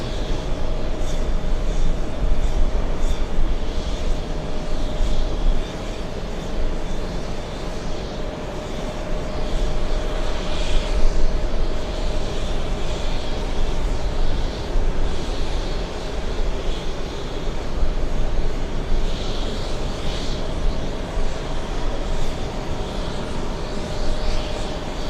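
British Airways Speedbird 115 jet aircraft at an airport, a steady broad engine roar that holds for a long stretch with slight swells, heard from a distance without talk.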